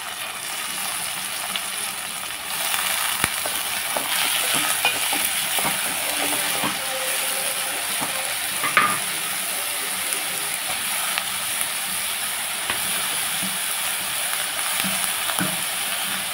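Eggplant pieces frying in oil in a pan on the stove, a steady soft sizzle with occasional clinks and stirring taps, fairly quiet and continuous.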